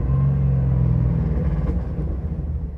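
An LS3 V8-swapped Land Rover Defender 110 pulls away gently with a deep, loud engine rumble heard from inside, the tone shifting slightly as the gearbox changes up.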